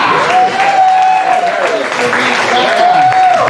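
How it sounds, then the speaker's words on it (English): Crowd applause at Brother John's, a bar venue, loud and continuous with a bright, steady tone running through the clapping and some voices mixed in. "applause for Art Menchaca"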